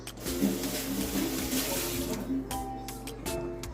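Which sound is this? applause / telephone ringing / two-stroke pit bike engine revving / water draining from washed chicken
water draining from washed chicken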